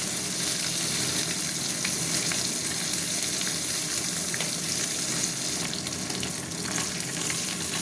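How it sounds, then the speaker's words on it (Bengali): Fish sizzles steadily in hot oil, a dense, continuous crackling hiss with occasional pops, close and unbroken throughout. "এই মাছটা ভাজা ভাজা হয়ে গেছে"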